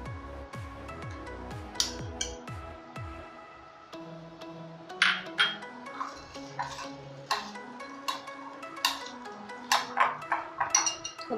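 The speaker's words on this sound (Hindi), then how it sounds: "अब हम इसमें चटनी डाल के इसको मिक्स कर लेंगे।" A spoon works boiled potatoes and chutney around a bowl, giving a run of light clinks and taps against the rim, irregular but fairly steady, close and clear with no talking.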